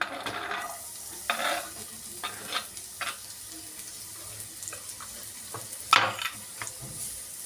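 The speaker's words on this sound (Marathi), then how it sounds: "तेल गरम झालं कांदा घालायचा" Chopped onion frying in hot oil in a pan for mutton keema samosa filling, with a low steady sizzle and several sharp scraping stirs at intervals, close and fairly quiet, no voices.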